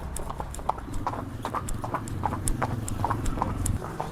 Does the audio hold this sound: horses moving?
yes